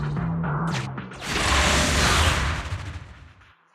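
Gunfire bursts in Zenless Zone Zero, loud dense crackling volleys swelling after a short pause and fading out, with no talk.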